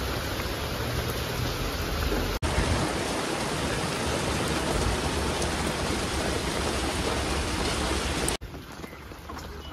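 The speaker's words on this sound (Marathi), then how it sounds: "आता पाऊस कमी झाला" Heavy rain pours down steadily in a jungle near a waterfall, a dense, loud, unbroken hiss of drops with no talking.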